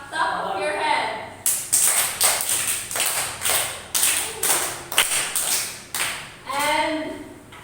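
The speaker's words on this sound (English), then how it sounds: "Clap at the top of your head." Students clapping hands above their heads in a classroom exercise, a series of sharp, evenly spaced group claps in a steady rhythm, close and clear, with a voice speaking briefly before and after.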